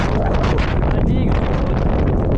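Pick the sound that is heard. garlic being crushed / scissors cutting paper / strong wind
strong wind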